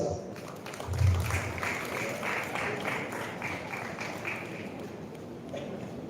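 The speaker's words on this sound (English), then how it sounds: "please give a big applause" Audience applauding at an academic conference at Bharath College, a moderate, fairly distant patter of clapping that continues steadily with a brief low thump early on.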